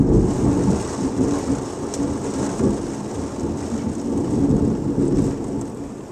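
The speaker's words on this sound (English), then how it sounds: "It's just pouring rain out there." Heavy pouring rain hisses steadily through a Michigan thunderstorm in January, with low rumbling thunder rolling underneath throughout, dense and continuous with no talking.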